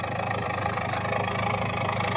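A Toyota Kijang engine idles through its stock exhaust fitted with a stainless Swoosh tip, giving a steady, close, even rumble with no revving.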